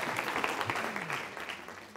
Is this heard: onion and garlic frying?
no